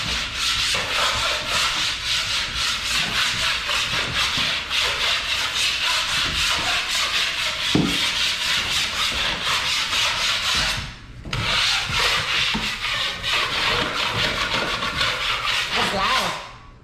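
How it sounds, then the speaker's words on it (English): A broad knife scrapes high spots of dried spackle off a wall after the third coat, a continuous loud rasping scrape that runs nearly unbroken with one short pause midway. "We're going to do a quick scrape down, like on the last one, just get any high spots off."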